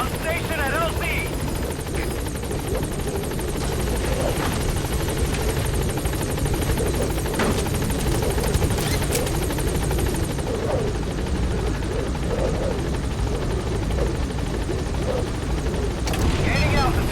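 The Pequod helicopter from the video game Metal Gear Solid V: The Phantom Pain arrives at a landing zone, its rotor drone loud and constant throughout, with game sounds and radio voices layered over it.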